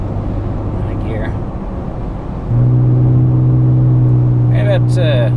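A Nissan Frontier truck with a Magnaflow exhaust cruises in high gear at about 70 mph, a steady low droning hum inside the cabin that deepens and steadies midway, with someone speaking briefly over it.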